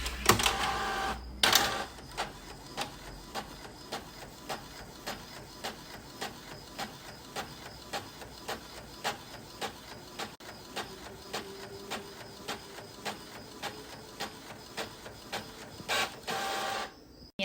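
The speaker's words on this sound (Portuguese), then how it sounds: "Vou imprimir aqui esse arquivo, só uma folha." An Epson L4160 ink tank printer runs through a single page, opening with loud mechanical whirs, then a steady series of regular clicking passes of the print head about every half second, ending with another burst of feed noise.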